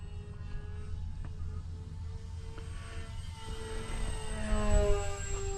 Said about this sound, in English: But it is a nice flying plane.